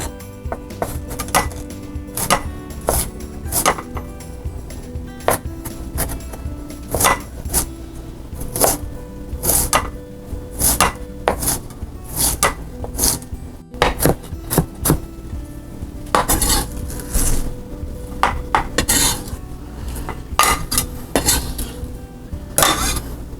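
Knife chopping cabbage into strips on a board for dumplings, a long run of sharp, close, irregular thwacks in bursts with short pauses, plus occasional clinks of dishes and utensils.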